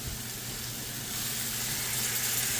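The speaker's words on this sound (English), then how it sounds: "I'm going to go in with my crushed garlic, my green seasoning." Crushed garlic and green seasoning sizzling in a hot pan for a Caribbean-style curried king fish stew, a steady close hiss of frying that swells slightly toward the end.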